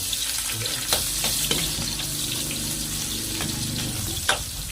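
Onion and garlic frying in oil left over from cooking kikiam and squid balls, a steady close sizzle with a few scraping stirs and knocks, no talk.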